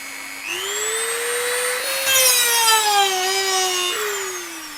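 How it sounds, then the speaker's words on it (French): A 220-watt electric chainsaw chain sharpener runs up to speed, its motor whining in a steady rising tone that wavers slightly as it works, loud and close with no talk. "ça c'est une affûteuse de chaîne de tronçonneuse, donc ça fait 220 watts"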